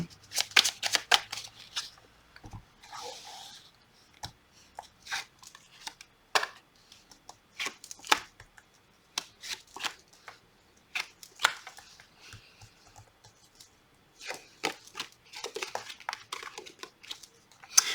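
Tarot-style cards being shuffled and drawn for a reading, rapid crisp riffling and flicking in repeated bursts throughout, close and fairly clear with no talking.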